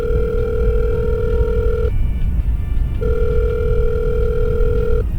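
A telephone rings in the horror visual novel game The Letter, two long electronic ring tones separated by a short pause, loud and close over a constant low rumble.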